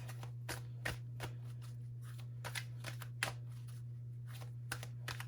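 Tarot cards shuffle with soft repeated riffling and flicking, quiet and close, over a steady low electrical hum.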